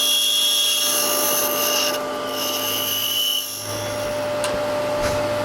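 Woodturning scraper cutting wood on a lathe fitted with a Nano Revolution hollowing and detailing system, giving a continuous scraping rasp over a steady machine hum for several seconds, close and without speech.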